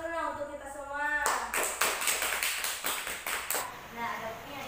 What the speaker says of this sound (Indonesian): ya tepuk tangan dulu nah untuk kita semua